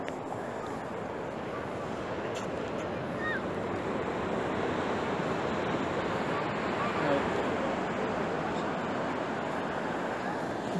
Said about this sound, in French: Je sais pas si vous entendez les vagues.